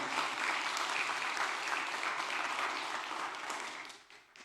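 Steady applause from a church congregation, fairly soft and distant, carries on evenly before tapering off at the end.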